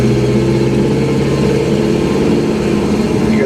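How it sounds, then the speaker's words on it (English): A car engine rumbles steadily at close range, its low drone rising slightly as the driver gives it throttle, with no talk over it. "hit the throttle"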